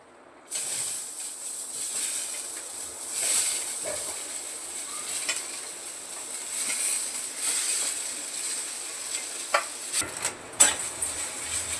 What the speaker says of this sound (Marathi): आता कांदा भाजायचा आहे तेल नाही घातलं मी कांदा भाजायला